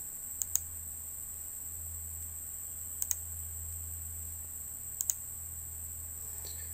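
A computer mouse clicks through a software installer on Windows, three quick double clicks spaced a couple of seconds apart over a quiet hum, with no speech.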